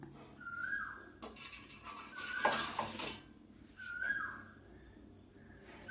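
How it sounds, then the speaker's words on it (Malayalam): A metal scoop clinks and scrapes against a pan of hot coconut oil while fried jackfruit-curry and egg rolls are lifted out, with a few close, bright knocks and a louder burst of clattering in the middle. "ആദ്യത്തെ ഇട്ടത് മുരിഞ്ഞിട്ടുണ്ട് ഞാൻ കോരിയെടുക്കുകയാണ്"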